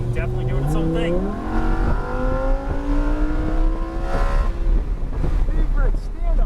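A Lamborghini Huracan EVO with a big naturally aspirated engine revs hard on the Palm Beach International Raceway, rising and falling engine pitch through gear changes under wind buffeting, with voices talking over it.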